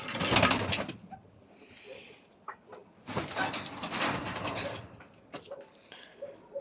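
Pheasants calling nearby, soft cooing notes mixed with bursts of rustling and flapping, plus faint background clatter.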